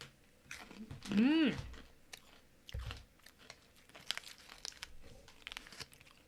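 Someone bites into and chews a crispy strawberry-powdered almond churro snack, giving close, loud crunches followed by softer chewing and crinkling. A voice is briefly heard early on.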